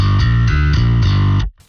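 Electric bass guitar in active mode with a flat EQ, playing a repeated riff of sustained, distorted notes with a slight extra high-end click on each attack, loud and close, then stopping abruptly.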